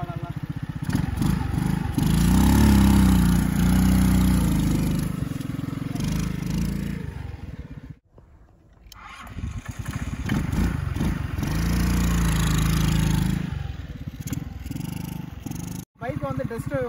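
A homemade mini RX100-style bike fitted with a scooter engine runs nearby: a rough, buzzing motor drone that swells and fades with revving and is cut by brief silent gaps, while someone speaks throughout.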